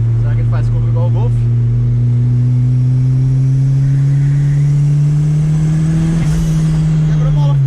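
A Chevrolet Chevette engine drones loudly and close with a steady, slowly rising pitch and an odd tone, a sharp clunk near the end, and voices talking briefly early on.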